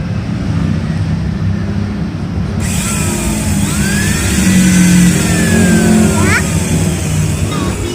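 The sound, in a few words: Modern M-2350B angle grinder switched on, running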